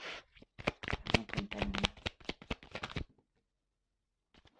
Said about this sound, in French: Je vais prendre toutes les cartes.